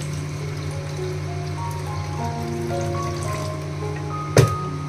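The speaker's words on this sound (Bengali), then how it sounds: "এখানে প্রথমে ধুয়ে নিচ্ছি, জলটা স্ট্রেন করে নিচ্ছি।" Water trickles and pours steadily as washed rice is strained, a close continuous running sound with a sharp clunk near the end.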